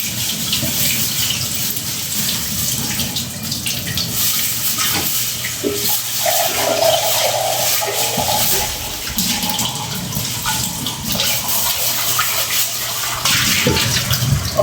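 Tap water gushing steadily into an Indonesian clay cooking pot for soaking, a loud continuous splashing fill that runs the whole time with small shifts in tone as the pot fills; no talking.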